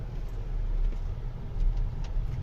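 A car rolls along a quiet rural road near a forest and dacha plots in a village, a low steady rumble of engine and tyres heard from inside, moderately loud and unbroken, with no one talking.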